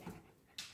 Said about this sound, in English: Dog, come here. Come. Sit. Sit.